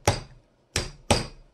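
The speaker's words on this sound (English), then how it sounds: "I gotta hammer this on" Three sharp hammer blows knock a lid into place, close and distinct: two spaced strikes, then a third following quickly, each ringing briefly before dying away.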